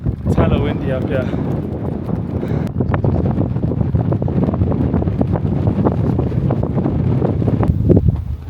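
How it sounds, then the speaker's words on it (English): Strong wind buffets the microphone on a mountain summit in Korea, a loud continuous low roar with gusty rumble throughout, while a person talks over it. "It's hella windy up here."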